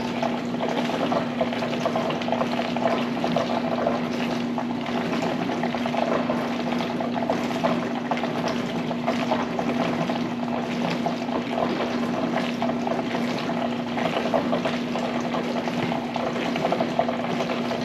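A capsule dishwasher runs an eco mode wash cycle with its heater on, giving a steady, continuous whooshing churn of spraying water over a constant low electrical hum throughout.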